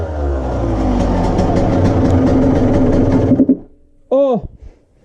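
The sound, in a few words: renovated Honda 125 CR motorcycle engine running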